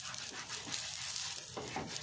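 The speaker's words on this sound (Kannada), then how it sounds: "ಮೀಡಿಯಂ ಫ್ಲೇಮ್ ದೀದೆ ದೋಸೆ ಫ್ರೈ ಮಾಡ್ತದೆ" Rava dosa frying in oil on a pan over a medium flame, a soft, continuous hissing sizzle with faint crackles, fairly quiet and alone.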